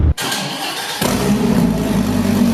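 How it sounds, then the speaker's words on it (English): A Dodge Viper SRT10 with a 591 hp tune starts up inside a warehouse: a brief starter whir, then the engine catches with a loud burst and settles into a deep, rumbling, close idle. "I'm gonna put in an exhaust clip of him starting the car up when it was in his warehouse"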